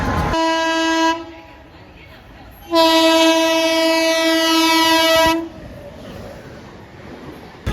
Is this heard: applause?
no